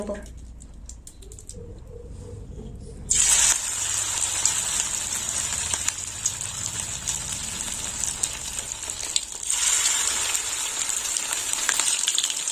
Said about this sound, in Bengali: তেল গরম হয়ে গেছে এবার বড়াগুলো ভেজে